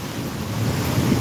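Storm surge waves pound a coastal port at Nato Port in Sagñay, Camarines Sur, during high tide, a continuous loud wash of surf with heavy wind buffeting the microphone.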